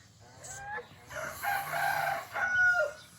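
Fighting cocks crow in a quiet farmyard, with several overlapping cock-a-doodle-doo calls rising and falling at moderate distance, separated by short gaps and a few softer clucks.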